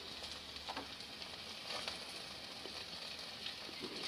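Ajwain (omam) seeds frying in oil in a pan give off a soft, steady sizzle with faint scattered crackles, quiet and continuous throughout.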